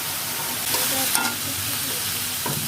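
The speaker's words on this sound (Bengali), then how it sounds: "মিডিয়াম আঁচে মাছগুলো একটু কষিয়ে নিচ্ছি" Fish, koi pieces, frying in oil in a pan over medium heat for a Bengali fish curry, with a steady close sizzle and a few scraping stirs.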